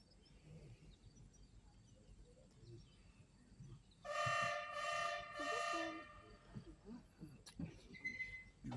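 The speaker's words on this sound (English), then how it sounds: "Yeah, so we can stop traffic so the train can go by." A train rolls past a road crossing on the Maryland & Pennsylvania Railroad, its horn sounding in long tonal blasts over steady rumble, with a short toot later and people talking faintly nearby.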